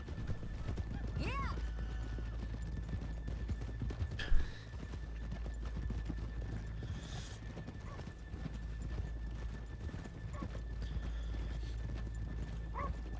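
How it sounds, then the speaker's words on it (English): Horses plod along a town street with steady, close clip-clopping hooves. A neigh cuts through near the start, and people talk and call out around them throughout. "let's leave the horses here off the main drag"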